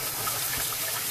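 Running water rinsing a fish during cleaning, a brief, steady, loud gush of splashing liquid with no pauses or voices.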